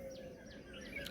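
Faint chirps and tweets from several birds drift through a quiet village morning beside an organic orchard of mixed trees, short high calls repeating over soft ambient hiss.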